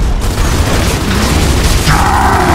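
A frag grenade goes off in the video game Gears of War 3, a loud continuous booming blast with dense mechanical clatter filling the short moment.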